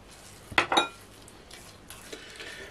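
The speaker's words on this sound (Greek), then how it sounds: "ανακατεύουμε καλά" A spoon stirring a coarse semolina batter with milk in a bowl, giving a few close clinks and scrapes against the bowl, then softer intermittent stirring.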